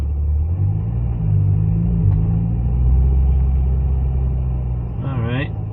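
Road traffic as cars begin to move: a steady, loud low engine rumble throughout, with a short voice-like sound near the end.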